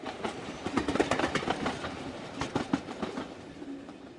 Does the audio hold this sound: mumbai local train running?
yes